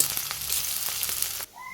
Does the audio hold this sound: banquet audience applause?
no